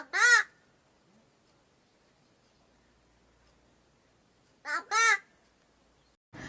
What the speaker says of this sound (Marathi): हा कावळा अगदी स्पष्टपणे आणि खणखणीत मराठी बोलतो